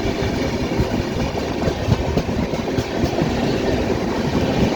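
The Hazrat Nizamuddin–Madgaon Rajdhani Express passes on the rails with a continuous rumbling roll and faint rhythmic wheel clatter, loud and steady throughout.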